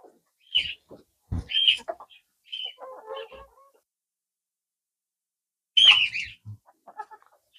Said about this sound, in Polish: kury walczą o banana.